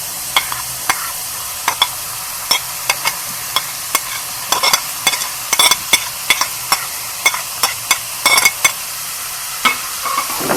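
A spoon stirs capsicum, tomato and onion in a frying pan with repeated sharp scrapes and taps against the metal over a steady soft sizzle, close and irregular, with no talking.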